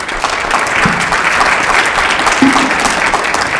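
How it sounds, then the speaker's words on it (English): An audience at a security talk applauds the panel, a loud, steady wash of dense clapping filling the whole stretch without pause. "Let's give them a big round of applause"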